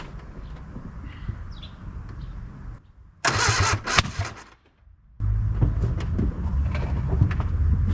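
An Austin Allegro car engine, fitted with a custom radiator and extra exhaust, cranks and catches, revving in a loud burst, cuts out briefly, then settles into a steady running idle.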